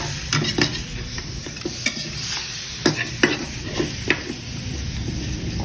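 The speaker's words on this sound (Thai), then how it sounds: "คั่วไปจากระยะหนึ่งแล้วก็จะตักออกก่อน" Pork bones dry-roasting in a pan, stirred with a utensil: a run of distinct scraping stir strokes at an uneven rhythm over a steady background sizzle, close and fairly loud, with no talking.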